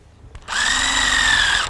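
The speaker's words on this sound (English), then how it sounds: "Grab your drill" A power drill starts up and bores steadily into a tree trunk to tap it for maple syrup, a loud whining motor tone that holds even after a brief click at the start.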